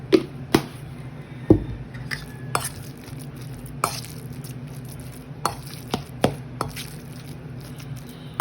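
Tofu frying in a pan for tortang tofu, with a steady low sizzle under sharp scattered clicks and knocks of utensils against the pan, no voices.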